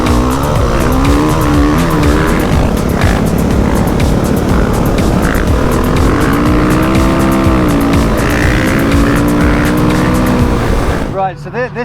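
A dirt bike ridden hard with a rider dressed as Santa, its engine loud and close, revving up and down in rising and falling waves throughout, with wind noise and a sharp cutoff near the end.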